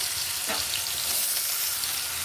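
Small potato pieces frying in hot oil in a pan, a loud, dense, steady sizzle with a brief stirring scrape near the start, close and uninterrupted.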